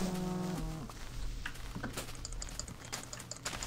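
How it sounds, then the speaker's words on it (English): Cow mooing in the Minecraft video game, a short low moo at the start followed by soft clicks of keyboard typing in the background. "Cow, don't go that way."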